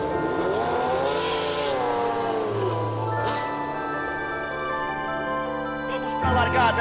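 Formula 1 race car engines roar together in a steady, sustained drone before a race start, loud and continuous throughout, with a sharper surge near the end and faint voices underneath.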